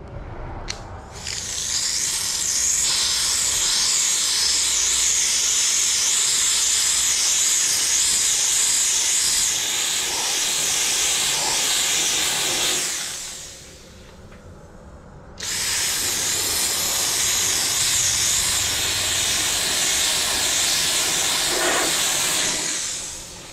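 Steam cleaner hissing as it sprays a 2020 Ford Edge during an exterior clean, a loud continuous hiss close up that pauses briefly partway through and then resumes.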